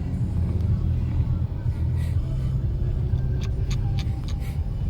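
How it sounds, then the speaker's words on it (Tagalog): Heavy road traffic on Katipunan: a steady, loud low rumble of many vehicles that runs the whole time with no breaks, and faint voices sit under the engine noise. "Grabe naman ang traffic dito."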